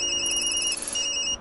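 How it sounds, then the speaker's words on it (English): A phone rings in the video game Tokyo Dark, a bright electronic ringtone sounding steadily and clearly for about a second and a half with no voices over it, then cutting off abruptly. "Sorry, Yumi. That's my phone."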